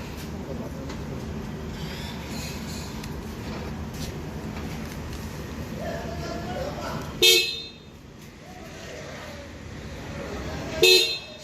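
Two short, sharp car horn toots sound about three and a half seconds apart, standing out over steady traffic and crowd noise at a busy roadside near Kollur Sri Mookambika temple, with chanting in the background.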